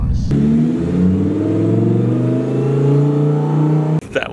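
An 800-horsepower Lamborghini Performante accelerating hard on a Los Angeles street, a loud close engine roar climbing through rising pitch for about four seconds before cutting off abruptly.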